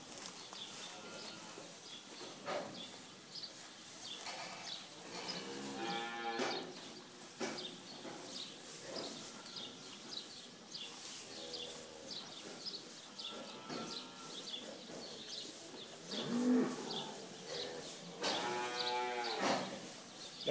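A cow on a farm lets out several long, drawn-out moos spread over twenty seconds, moderately close, with soft background noise and occasional faint bird sounds.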